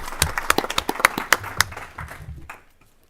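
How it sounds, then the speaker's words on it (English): A House Standing Committee on Families and Children hearing applauds a representative whose first bill cleared committee: a small group claps in scattered, uneven bursts that thin out and fade near the end, with no voices over it. "Please give him a round of applause."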